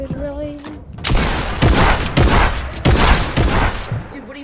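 Rapid gunfire from a weapon in the Fortnite video game: a loud run of fast, closely spaced shots fills most of the span, bracketed by quieter game tones at the start and end.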